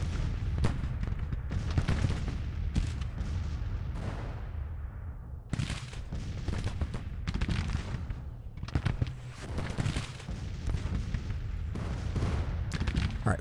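Gunfire in a large battle video game, with dense volleys and scattered shots crackling continuously alongside heavy booms, loud and close with no pauses.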